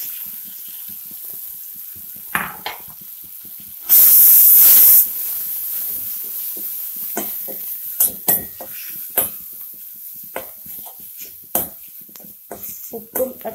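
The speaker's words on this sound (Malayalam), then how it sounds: "ചമ്മന്തി ഇട്ടിളക്കണം." Chutney paste of ground tomato stirred into a hot pan for tomato chutney, giving a sudden loud sizzling hiss that lasts about a second, then light stirring scrapes and clinks over a low background hiss.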